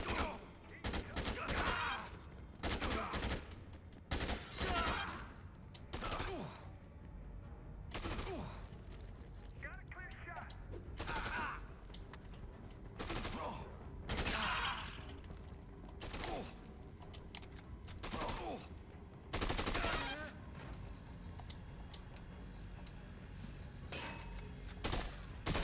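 Bursts of video game gunfire from Dead Rising 2, loud rapid volleys repeating every second or two across the whole stretch, with talk in between.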